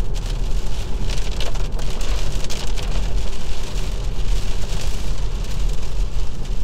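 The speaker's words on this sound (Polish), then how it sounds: "z racji deszczu od razu zrobiło się dużo głośniej w samochodzie" Steady, dense patter of rain drumming on the windows and roof of a 2022 Kia XCeed plug-in hybrid, a constant loud wash with no voices.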